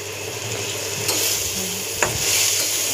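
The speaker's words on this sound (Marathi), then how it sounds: "कांदा टाकल्यानंतर लसूण टाकायचा, थोडा कढीपत्ता टाकायचा." Onion, garlic and curry leaves frying in a pan for a dried fish dish, a steady close sizzle with a couple of brief stirring scrapes, no voices.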